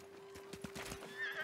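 A horse in the samurai game Ghost of Tsushima snorts and whinnies briefly amid a few soft hoof clops, quiet and short, with no talk.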